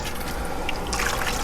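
Air conditioner condensate water trickles steadily into a container on a farm in a Philippine province, a soft continuous liquid splash and patter heard up close with no talking.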